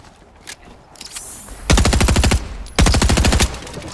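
Automatic gunfire in the Fortnite video game comes in two loud, rapid bursts of about half a second each, separated by a brief pause and preceded by a few faint isolated shots.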